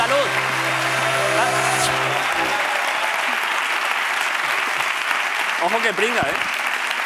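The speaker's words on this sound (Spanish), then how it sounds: "Un aplauso para la gente" A studio audience at a Spanish late-night talk show applauds loudly and steadily, the clapping fading as a host's voice speaks over it near the end.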